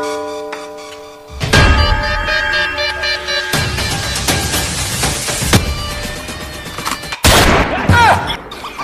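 Loud gunfire sound effect bursts out in dense volleys like a fusillade, layered over music and cutting in with abrupt heavy cracks toward the end.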